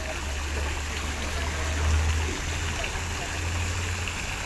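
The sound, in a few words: artificial waterfall at Mapro Garden resort pond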